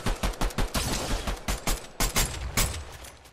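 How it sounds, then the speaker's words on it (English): Rapid bursts of gunfire in the Avatar video game crackle in quick succession, loud and close, with short pauses between volleys. "I hear gunfire."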